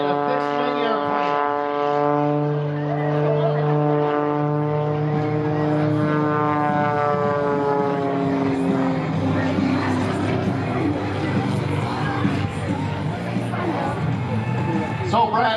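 An MX2 aerobatic propeller airplane drones loudly at an airshow with shifting engine pitch as it maneuvers, climbing and dropping in tone, with a voice talking over it.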